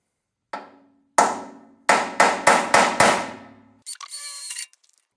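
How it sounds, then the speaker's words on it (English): A hammer strikes a metal punch to dimple steel before drilling on a rat rod build: six sharp, ringing blows with short pauses, loud and close, followed by a brief whirring burst. "So let me get a punch. I'm gonna put a dimple in that and then go ahead and drill a small hole."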